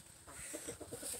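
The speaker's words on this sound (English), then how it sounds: "It's a Rhode Island Red." A Rhode Island Red rooster and hens cluck softly at close range in a quick run of short, rhythmic calls.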